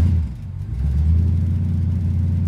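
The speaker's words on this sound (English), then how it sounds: "get the Galaxie started, and get her down into the city" A Ford Galaxie engine turns over and settles into a deep, steady rumble close by, dipping briefly before picking up to an even, throaty idle with slight revving.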